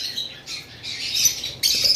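Lutino Fischer's lovebirds let out a run of shrill, raspy squawks close by, with bursts coming and going and a sharper cluster near the end.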